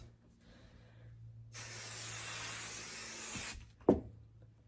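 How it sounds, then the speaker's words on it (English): Basting spray spritzed onto quilt batting while sewing an easy quilt: one long steady hiss of about two seconds, close and fairly loud, then a short sharp knock just after it ends. "you can baste this with your basting spray if you want. Do a couple spritzes."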